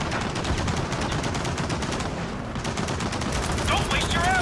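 Sustained, rapid gunfire from Gears of War 4, an unbroken stream of shots at close range lasting the whole stretch, with a brief dip midway and a faint voice slipping in near the end.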